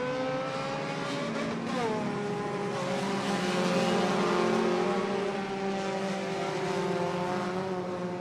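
Enduro race cars roar around Irwindale Speedway, several engines droning and shifting pitch together as they pass, a loud steady whine with a sweeping rise near the start, no voices.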